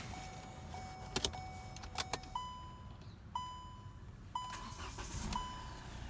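A 2017 Hyundai Creta SUV with a 1.6 diesel engine starts up inside the cabin, with repeated dashboard warning chimes, a few clicks and a quiet, low idle underneath.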